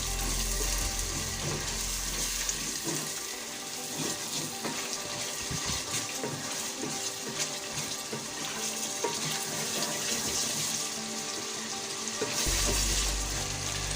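Cauliflower florets fry with masala in a pot, giving a steady, close sizzle with watery crackle and occasional stirring, continuous and without speech.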